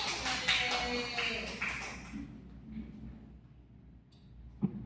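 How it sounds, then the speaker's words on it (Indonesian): A school class claps for the winning group during a chemistry micro-teaching lesson. A dense burst of hand clapping lasts about two seconds and then fades into quiet room noise, ending with a single sharp tap. "Tepuk tangan dulu."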